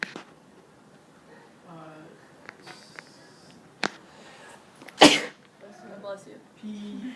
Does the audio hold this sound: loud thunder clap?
no